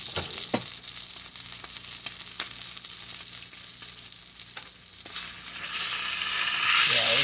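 A steak sears in beef tallow in a pan with a loud, steady hiss that swells louder near the end, along with a few light taps from a utensil.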